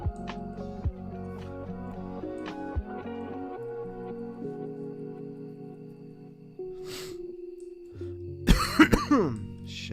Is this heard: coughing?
yes